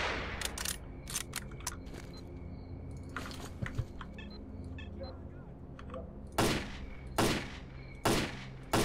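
Gunfire in S.T.A.L.K.E.R. Faction Wars aimed at snipers on rooftops: sharp single shots and short bursts, sparse early, then several loud, spaced cracks near the end, mixed with clicking and someone talking.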